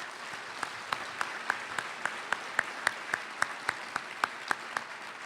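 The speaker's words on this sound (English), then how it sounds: "Can we give them a round of applause?" A luncheon audience at a conference applauds its sponsors, a thin, steady clapping with a few sharper claps standing out in a regular beat, fairly quiet and distant, with no talk over it.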